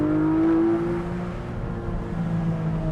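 A Porsche 718 Boxster GTS 4.0 engine idles with a low, steady hum and slight pitch swells, like gentle revving at close range.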